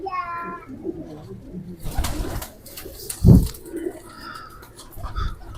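A flock of pigeons, including fancy Rampuri birds, coos nearby: low throaty burbles rise and fall amid rustling, wing flutters and a thump, with a voice in the background.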